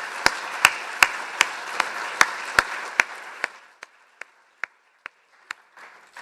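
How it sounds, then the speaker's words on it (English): A conference audience at an anaesthesia meeting claps for a named researcher. Sharp, sparse individual claps ring out rhythmically over a thin wash of applause that fades after a few seconds, leaving a handful of isolated claps. "Can we have a round of applause?"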